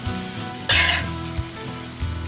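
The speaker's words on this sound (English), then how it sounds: "Just let that simmer for a couple more minutes." Steaks simmering in mushroom gravy in a pan give off a steady close sizzle and bubbling, with a brief louder hiss of spatter and faint stirring bumps.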